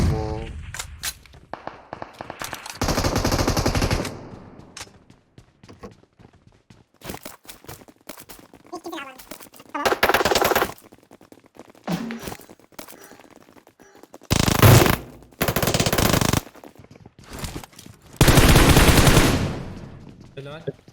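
Video game firefight with repeated bursts of automatic gunfire, several long loud rattling volleys separated by quieter gaps with scattered single shots and small movement sounds.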